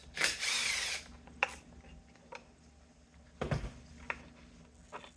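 A power tool whirs briefly while bolts are removed from a BMW R69S motorcycle engine during disassembly, followed by sparse metallic clicks and knocks from tools and parts in a quiet workshop.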